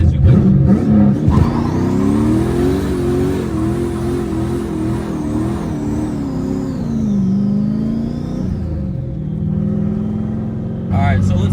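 A manual car does a standstill burnout as its engine revs hard and holds a high, wavering pitch for several seconds, then drops back near the end, loud and close under a voice.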